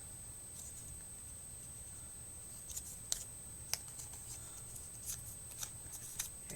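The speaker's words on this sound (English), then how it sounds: "I have some scissors, and let me cut a little piece here." Small scissors snip a little piece of craft material, giving several faint, crisp clicks and cuts at irregular intervals over a quiet, near-silent room.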